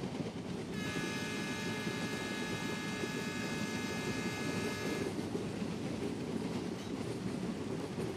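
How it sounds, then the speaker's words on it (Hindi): Express passenger train in Trainz Simulator running along the track at about 71 km/h, a steady loud rumble of wheels on rails throughout, with a sustained horn-like tone sounding through the first several seconds. "अपनी ट्रेन अभी 71 किलोमीटर पर आके स्पीड पे चल रही है"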